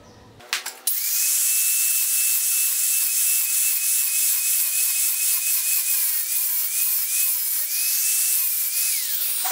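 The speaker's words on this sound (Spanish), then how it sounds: "Ahora voy a hacer una guía aquí con un disco de corte" A cutting disc on an angle grinder screams at high pitch, close and loud, as it grinds a guide groove into cast iron before welding, holding a steady tone with slight dips as it bites.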